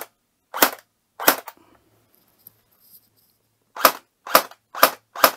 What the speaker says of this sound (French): voilà le bruit que